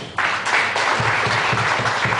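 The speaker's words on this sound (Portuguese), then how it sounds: "Aplauda o Senhor Jesus." A church congregation breaks into sustained applause, dense continuous clapping that swells right after the start and holds steady at close range, with a faint rhythmic low thump underneath.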